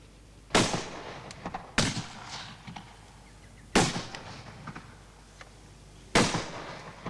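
Gunshots fired in a 1979 British comedy set in the Raj, four sharp reports spaced irregularly over several seconds, each cracking loud then trailing off in a short echoing decay, with no talk between them.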